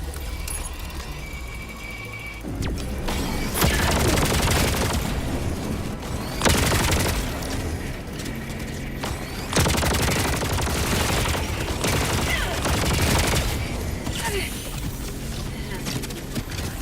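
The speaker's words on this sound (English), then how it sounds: "Firing orbital barrage. Clear the area." Orbital barrage strikes in a video game: repeated heavy explosive bursts and rattling gunfire-like volleys arrive in several loud waves over a constant low rumble, with a voice occasionally heard between them.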